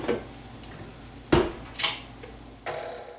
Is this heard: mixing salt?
yes